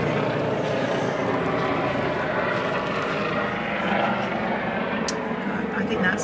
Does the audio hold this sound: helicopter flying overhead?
yes